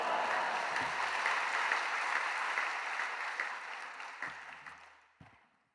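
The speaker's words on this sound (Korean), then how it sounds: "박수로 환영하도록 하겠습니다." A church congregation at an early-morning service applauds to welcome the pastor, a sustained wash of clapping that gradually thins and fades out, with a few last scattered claps at the end.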